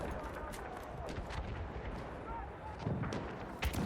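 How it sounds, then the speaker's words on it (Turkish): Scattered gunfire and distant booming explosions in the World War I shooter Battlefield 1 on the Suez map, a constant battlefield rumble with sporadic louder thuds toward the end. "Birileri ateş ediyor ama ben göremiyorum."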